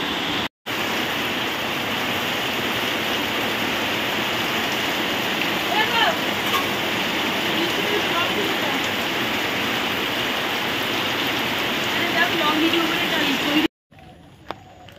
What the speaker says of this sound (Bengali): এখন দেখো বৃষ্টিটা আবার জোরে হয়ে গেছে